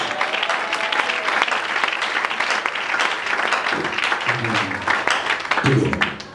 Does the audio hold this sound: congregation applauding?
yes